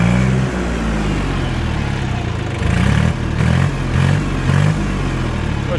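An ISEKI TL2300 tractor's diesel engine idles with a clattering rumble, then revs up in several short bursts, loud and close.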